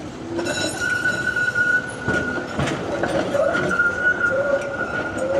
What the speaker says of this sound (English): It's my tram just leaving.